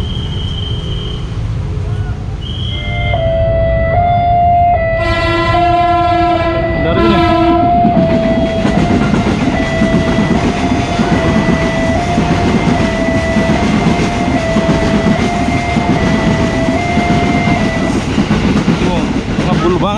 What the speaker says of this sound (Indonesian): Ada kereta. Kereta jurusan Serpong seri 54 10 rangkaian.